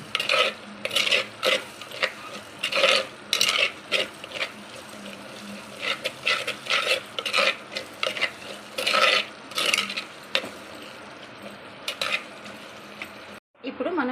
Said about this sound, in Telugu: వేసి ఒకసారి అంతా బాగా కలిపేసుకుందాం